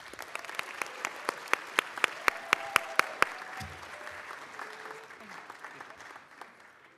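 Scattered handclaps for the Argyle High School debate team at a school board meeting start sparse, swell into a short run of sharp, distinct claps, then thin out and fade into room murmur.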